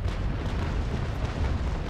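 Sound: ship cannon broadside fire in Naval Action video game

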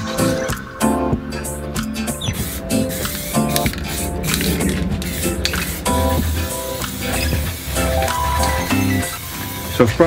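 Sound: spraying filler primer on prop camera parts

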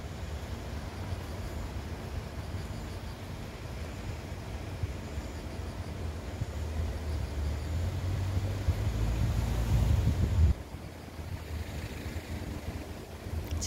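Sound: strong wind blowing

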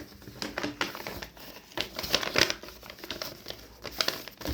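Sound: folding something in half

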